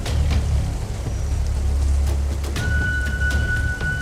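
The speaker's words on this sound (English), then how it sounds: "Why does it rain so suddenly after such a beautiful sunny day?" Sudden rain falling after a sunny day, a steady dense patter with a low rumble underneath, loud and continuous throughout, with a thin tone entering partway through.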